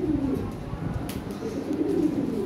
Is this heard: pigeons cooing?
yes